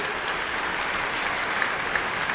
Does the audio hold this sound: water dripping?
no